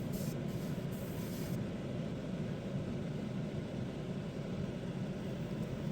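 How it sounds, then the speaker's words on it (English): An airbrush sprays weathering paint around the vents of a Rapido RS18u model locomotive in Ottawa Central 1815 livery, making a steady, even hiss over a constant low rumble throughout, with no talking. "I'm spraying around the perimeter of the vent to try and make those look a bit darker as well."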